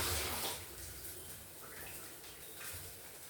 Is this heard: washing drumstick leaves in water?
yes